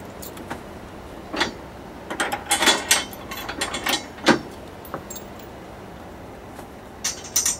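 Ratcheting clicks from a tool fastening the lower bracket of a rear cross strut bar on a Subaru WRX, heard as short irregular bursts of metallic clicking with pauses between, fairly close.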